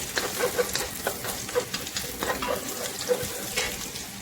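Garlic sautéing in a pan for mixed vegetables with ginger, a constant crackling sizzle with irregular stirring scrapes and a few light utensil taps, close and unaccompanied by talk.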